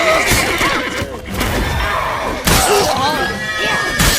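A horse in The Witcher 3 whinnies loudly and close, repeating over a busy soundscape of clatter, thuds and dialogue voices.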